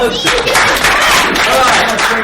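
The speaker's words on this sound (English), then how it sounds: "Round of applause" Audience at a martial arts teaching seminar claps together in a full, loud burst that fills the room, continuing without a pause; some voices may mix faintly into the clapping.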